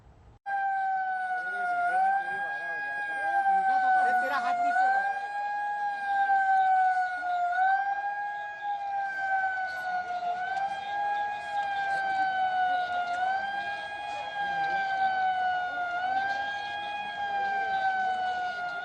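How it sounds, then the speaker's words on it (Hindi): Warning siren sounded across Madhya Pradesh for Covid awareness, a loud wailing tone that rises and falls in slow repeated cycles, steady and continuous throughout. "मध्य प्रदेश में कल सायरन बजा ताकि लोग जागरूक हों।"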